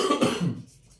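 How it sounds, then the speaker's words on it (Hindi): A man coughs while giving a classroom physics lecture, a short harsh burst of two or three close, loud coughs that trail off within about a second. "ऐसा नहीं है कि आप लोग सोच रहे हो कि मैं बार बार खांसे जा रहा हूं"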